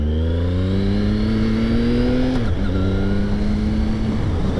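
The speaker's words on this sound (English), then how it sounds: "you guys can hear the bike, how smooth the bike is right now." A 2016 Triumph Speed Triple R motorcycle accelerates up through the revs, its engine note climbing smoothly, a brief dip as it shifts gear, then rising again, loud and close with no talking.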